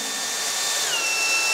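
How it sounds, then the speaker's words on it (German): A cordless drill whines steadily at close range while tightening screws on side clamps for a perfboard, its motor pitch dropping slightly partway through the short burst, with no talking. "dann kann ich das direkt mit dem Bohrer, kann ich diese Schrauben hier anziehen"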